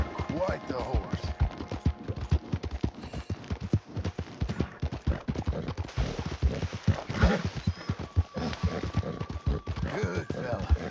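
A horse in Red Dead Redemption 2 clip-clops in a steady rhythmic gait at close range with a brief whinny, and a voice speaks over the hoofbeats.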